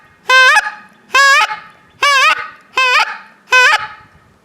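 Five loud, close honks from a Beaver Creek Inferno single-reed goose call, each a short, buzzy two-part note with a break in pitch, spaced about a second apart, with no talking around them.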